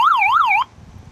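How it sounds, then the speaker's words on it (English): A truck's PA system sounds a loud electronic siren, a rapid rising-and-falling wail that cycles a few times for about half a second and then cuts off abruptly, leaving quiet background. "Sure. Here is a siren."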